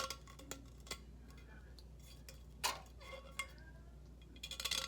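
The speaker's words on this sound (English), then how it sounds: "I just take my X-Acto knife and I just trim off the epoxy on the inside." An X-Acto knife trims and scrapes epoxy inside a cup, making faint, scattered ticks and small clinks in an uneven rhythm, with a rougher burst of scraping at the end.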